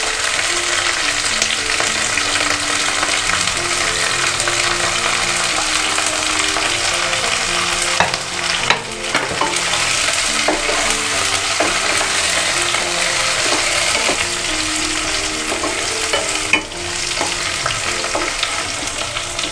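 Broccoli pieces fry in a pan for a grilled vegetable sandwich, giving a loud, continuous sizzle with occasional stirring scrapes and knocks.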